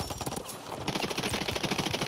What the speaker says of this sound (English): Oh, we're taking some shots.